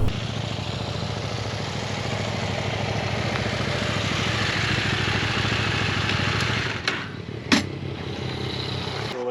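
Three motorcycles idling at a campsite, a steady low engine rumble running for several seconds before easing off, followed by a couple of short clunks.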